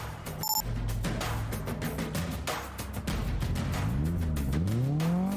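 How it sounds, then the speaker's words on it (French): A Chevrolet Camaro SS police car in Dubai, with a supercharged 6.2-litre V8, idles with a low rumble, then revs loudly in rising and falling sweeps close by. "Le moteur V8 suralimenté 6 litres 2 de la Camaro SS développe 426 chevaux de puissance"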